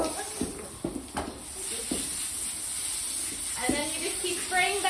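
A hose sprays water to rinse a horse during a bath. It makes a steady high hiss that runs throughout, under a person talking and some scattered thumps and clatter.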